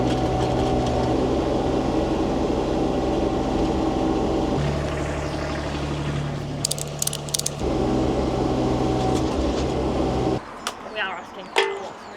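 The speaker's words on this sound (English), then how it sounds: "So I've got a shit ratchet strap and a digger." Digger engine running steadily and close while heavy slabs are lifted on a ratchet strap, its droning tone shifting as the load changes, then cutting out to leave clinks and knocks.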